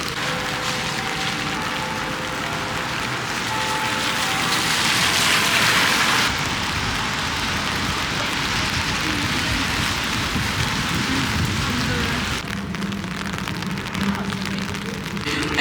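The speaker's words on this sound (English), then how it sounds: "I was due for a rainy London visit." Steady rain falls throughout on a winter day in London, a dense, even hiss with spattering drops on surfaces and a faint low rumble of traffic beneath, with no talking.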